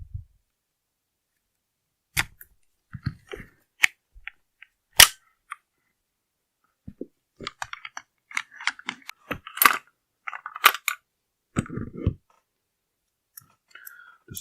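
Metal parts of a Benelli M1014 shotgun's bolt carrier group click and snap together during assembly: sharp, sparse clicks and clacks at close range with quiet gaps between them.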